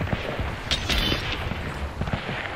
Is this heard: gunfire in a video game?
yes